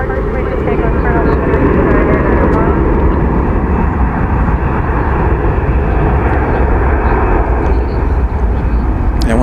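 A jet airliner roaring on the runway at DFW Airport, a loud continuous engine rumble that fills the whole stretch without letting up, with faint radio talk mixed underneath.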